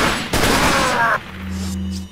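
Gunfire rings out in the Resident Evil 4 mod Life in Hell Pro: a dense burst of shots for about a second, then a low hum and faint game ambience.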